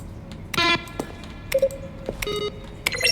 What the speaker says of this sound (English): When buttons are pressed, each sound is a mix of keyboard stroke and synthesizer tone.